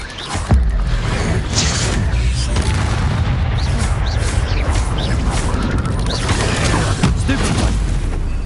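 Expelliarmus spell impact in the Hogwarts Legacy video game: a dense, loud booming blast with crackling, crashing texture that carries steadily through the whole stretch, with a sharper hit near the start and another toward the end.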